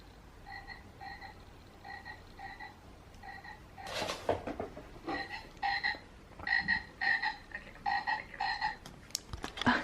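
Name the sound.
frog toy croaking sound played on laptop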